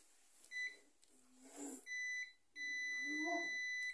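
Multimeter set to continuity mode beeps as its probes touch the pins of an LED tube socket, giving a few sharp electronic tones, some short and some sustained, close and fairly quiet, with brief voice sounds between them.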